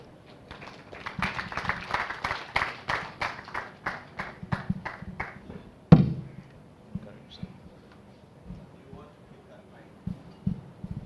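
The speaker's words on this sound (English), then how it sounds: "Please, a round of applause" Conference audience applauding at an international quality education conference, a dense burst of many hands clapping for about five seconds, ending in a sharp thump, followed by quieter room noise and scattered sounds.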